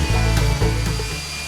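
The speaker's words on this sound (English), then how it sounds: "Around the hatch, I am more careful with light strokes with the sander." Power sander smoothing cured epoxy on the deck of a home-built kayak, a steady close whirring drone with slight dips in pitch as light strokes are made around the hatch.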